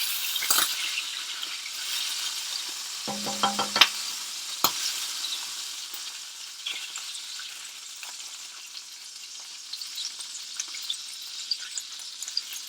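A glaze for pork chops and roasted vegetables sizzles and bubbles as it cooks down to a syrup in a pan, a steady soft hiss with a few brief clinks of utensils.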